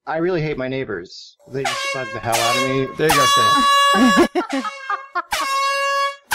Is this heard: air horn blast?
yes